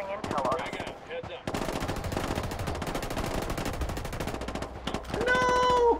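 Rapid automatic gunfire from the video game Ghost Recon Wildlands in Ghost War mode, fired in long sustained bursts with a short gap, close and loud, ending with a brief ringing electronic tone.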